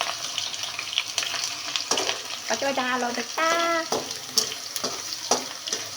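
Potato chips frying in a home kitchen pan, a continuous close sizzle broken by scattered clatters, with a brief voice rising over it midway.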